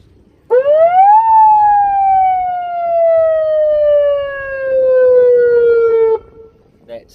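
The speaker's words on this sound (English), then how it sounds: "siren horn." A siren tone sounds from a car PA loudspeaker fitted to a Suzuki Swift, sweeping up sharply then gliding slowly down in one long loud wail of about five seconds before cutting off, with no talk over it.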